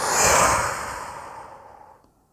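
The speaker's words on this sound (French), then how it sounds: "on souffle très fort en relâchant les bras" A strong, forceful exhale released while relaxing the arms during a relaxation stretch, a breathy whoosh that starts loud and close then tapers off over about two seconds.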